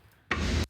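One dry, noisy burst lasting about a third of a second, flat and sustained with no ring, like a raw clap sample, alone.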